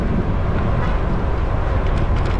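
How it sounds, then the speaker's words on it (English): Loud, continuous wind buffets the microphone while riding a Stromer ST1 electric bike, a deep, roaring rumble with no pauses, drowning out everything else. "Ooh, windy day."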